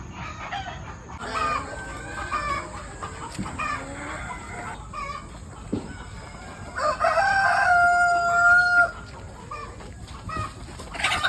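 Chickens on a Philippine poultry farm cluck in a busy flock nearby, with a rooster crowing loudly partway through; no talk.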